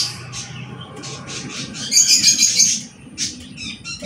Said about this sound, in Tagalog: Paingay yung mga ibon.